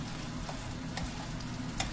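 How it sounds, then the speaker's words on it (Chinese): Dried tofu pan-frying in oil, a steady close sizzle with occasional sharper crackles and pops, alone without talking. "豆干要有耐性哈、哦，要煎到它老皮"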